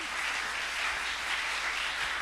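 Church congregation applauding together, a steady, dense wash of clapping that holds throughout at moderate volume with no pauses.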